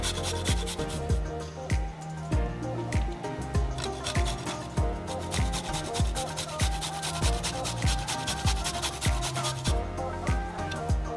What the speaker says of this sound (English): Next, grate the garlic and ginger.